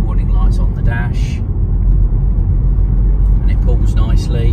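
A 2017 Skoda Octavia 1.6 SE TDI five-door hatchback drives along a road. Its engine and tyre rumble is steady and continuous, heard from inside the car, with brief muffled sounds over the top.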